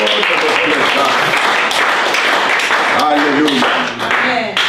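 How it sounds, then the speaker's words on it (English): A church homegroup congregation claps hands in worship, a lively, dense patter of clapping mixed with voices singing or calling out over it. "Can we clap our hands to God for this pleasure?"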